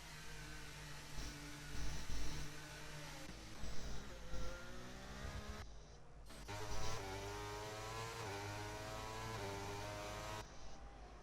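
Race car engines rev and accelerate in a racing video game round at Las Vegas, sustained whining tones rising and shifting as several cars run continuously.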